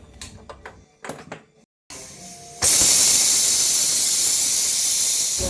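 After a few faint clicks and a brief silence, a pressure cooker bursts out a loud, continuous high-pitched hiss of steam that holds steady, close and dominating.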